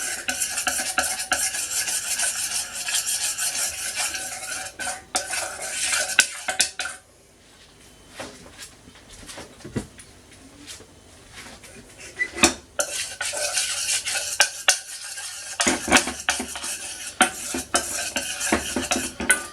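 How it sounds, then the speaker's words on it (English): A spoon stirs a gelatin mixture in a pan on low heat while making a coffee and Biscoff cheesecake, giving steady scraping and clinking strokes up close, with a quieter pause midway before the stirring resumes. "I can still see some gelatin powder in here, so I'm just going to keep on mixing."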